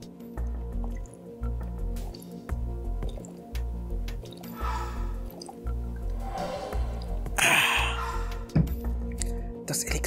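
Liquid sloshes and drips close by as someone takes a drink of plain water, wet gulping squishes running over a steady, looping synth beat from a Sparkle 2 EVO game session.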